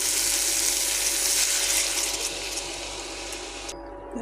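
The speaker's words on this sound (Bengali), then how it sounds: "এবারে দিয়ে দিব জল" Water pours into a hot pan of fried soybean and pointed gourd curry, making a loud, steady hissing rush that holds for about four seconds, then cuts off abruptly.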